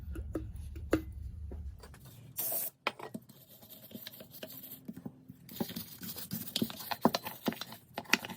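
Carb and choke cleaner sprayed into the throttle body of a 1992 Honda Civic hatchback, heard as a short hissing burst followed by patter and scratchy handling sounds, close and moderately quiet, with no talking.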